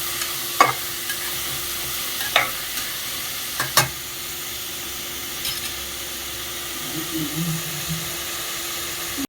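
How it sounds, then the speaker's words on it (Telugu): Onions frying in a pan for a Konaseema-style mutton curry with raw cashews and drumsticks: a steady, quiet hiss and sizzle runs throughout, broken by a few sharp clicks of a stirring spoon in the first few seconds. "10 నిమిషాలు ఉల్లిపాయలు బాగా గోల్డెన్ బ్రౌన్ కలర్ వచ్చాక మటన్ తీసి వేగనివ్వాలి"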